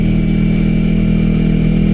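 A Kawasaki Ninja 250 engine braking downhill in first gear on a mountain road gives a loud, steady, droning engine note with constant wind rush.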